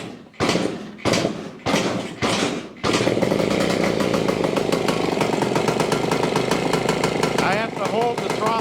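A 1973 Yamaha ATMX 125 two-stroke motorcycle engine sputters through a few short bursts, then catches and runs steadily with the throttle held, a loud, close, continuous buzzing drone.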